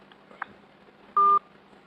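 Telephone keypad dialing tones on a phone call, a single clear beep rising loud over faint background hiss after a small click, close up.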